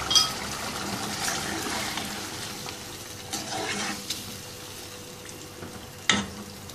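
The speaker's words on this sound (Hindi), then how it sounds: "अब इसके अंदर आधा कप पानी का शामिल कर देंगे।" Half a cup of water poured into sautéed chicken in a pan for achari gosht, a hissing sizzle with bubbling and stirring scrapes, steady then fading, with a few louder splashes and clinks near the end.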